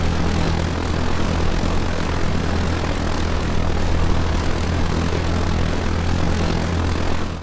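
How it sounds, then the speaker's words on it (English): A military drone-style airplane in the ARMA 3 video game cruises in flight, its propeller engine a constant dense droning roar, loud and unbroken, with no voices over it. "The plane has a speed of about 440 kilometers per hour, has a range of up to 27 hours of flight, flying about 15 kilometers high."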